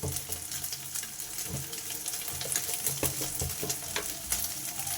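An egg fries in a hot pan for breakfast noodles, giving a steady close sizzle and crackle with occasional scraping stirs and no voices over it.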